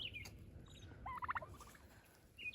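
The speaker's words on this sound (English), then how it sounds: "Turkeys are doing good." A turkey gobbles in a quick warbling burst, with a couple of shorter higher calls before and after, moderately close over a quiet outdoor background.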